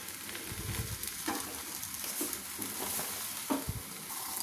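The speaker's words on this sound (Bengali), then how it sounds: "বেলে তাওয়াতে দিয়ে দিলাম। সেমভাবে কিন্তু 1 পিঠ ভাজা হয়ে গেলে সেঁকে নেব আমি।" Pea-stuffed paratha cooking on a hot tawa, a soft steady sizzle with occasional low knocks and shuffles from handling, close and fairly quiet, no voices.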